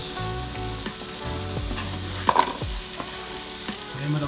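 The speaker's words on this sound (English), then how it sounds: "So we're just gonna let this fry off for maybe like 10 minutes." Onions and mushrooms fry in a pan for a Japanese katsu curry, a steady close sizzle with occasional stirring knocks and scrapes of a utensil against the pan.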